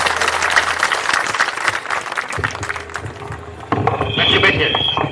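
A crowd at a village political gathering in Barora panchayat, Ramgarh, claps together in dense, fairly close applause that fades, while voices talk over it and through the lull.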